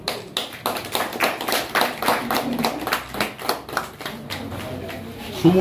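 A crowd at a police station in Durgapur claps as stolen mobile phones are returned to their owners. The applause is a steady, dense patter that lasts throughout, with voices talking underneath.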